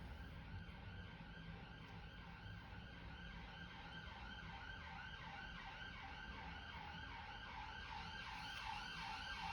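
A rapid wailing ambulance siren in London pulses continuously at a fast, steady rhythm over a constant background of city traffic.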